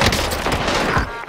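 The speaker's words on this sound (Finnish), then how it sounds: "Vihreän suunnasta ammuttiin mua" Rapid gunfire in the battle royale game Call of Duty Vanguard Royale, a loud, dense burst of shots lasting just over a second with no talk over it.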